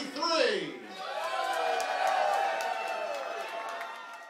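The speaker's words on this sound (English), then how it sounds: "determine the winner by audience applause" An audience at the New York Beard Competition cheers for finalists in the Full Beard Natural category, opening with a rising whoop and then settling into sustained crowd cheering with faint clapping that fades slightly toward the end.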